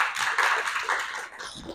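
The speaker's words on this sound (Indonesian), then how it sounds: "Tepuk tangan dulu untuk anak ibu semuanya." A class of students clapping together in a classroom after a lesson, a dense burst of hand claps that runs steadily for under two seconds.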